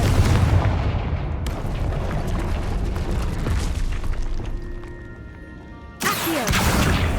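Fire-spell explosion in the Hogwarts Legacy video game: a deep booming blast with rumbling decay that fades, then a second sudden loud burst cuts in near the end.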